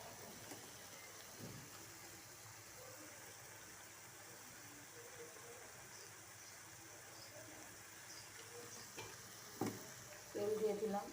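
Cooking oil sizzles faintly in a pan with ground cumin, a low steady hiss with a few scraping stirs and a slightly louder burst near the end.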